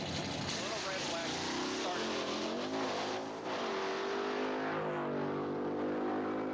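Hemi Under Glass drag car, the original, with its loud engine revving steadily and rising in pitch, close up, with voices talking over it throughout.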